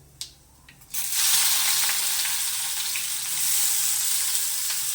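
Curry leaves and onions hit hot oil for a bottle gourd fry, bursting into a loud, dense sizzle after a quiet start with a couple of light taps, then holding steady frying with no talk.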